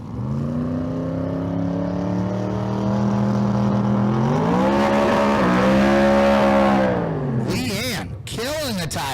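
A small tire drag race car runs at the Street Car Super Nationals in Las Vegas on a chilly night, its engine droning steadily and rising in pitch, then cutting off as sharp bursts of track noise and announcer talk take over.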